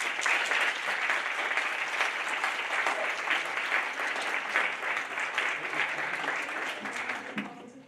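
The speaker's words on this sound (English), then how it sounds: "A big round of applause for our panelists." Audience applause for symposium panelists fills the room as a dense, sustained clapping that holds steady for several seconds, then begins to taper at the end.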